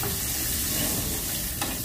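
Sliced onion fries in hot oil for sambar, a dense, loud, continuous sizzle and crackle heard close up without pause.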